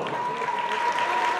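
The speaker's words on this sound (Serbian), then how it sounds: "aplauz!" An audience at the Belgrade children's writers festival Vitezovo proleće claps steadily, a continuous moderate wash of applause with a faint steady tone running beneath it.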